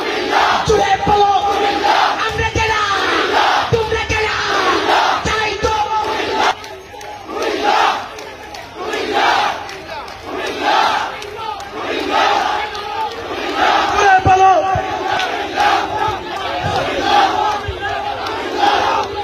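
A large crowd chants slogans together at a street rally in Comilla demanding division status, loud rhythmic massed voices rising and falling in repeated bursts, close and continuous throughout.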